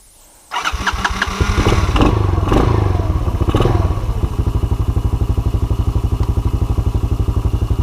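A Honda ATV engine on choke cranks and catches after a brief quiet moment, then settles into a loud, close, steady rhythmic idle with some mechanical clatter.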